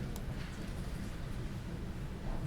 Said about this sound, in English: Sounds like it's raining outside.